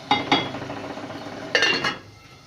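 A metal lid clatters onto a cooking pot of tomatoes for anday chole, two quick clinks followed a moment later by a longer rattling settle, close and fairly loud.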